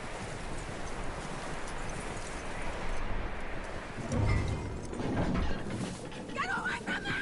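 Horse hooves on ground in Red Dead Redemption 2, soft clip-clop steps mixed with rustling and wind-like noise, with a couple of heavier thuds near the end, while voices talk over it.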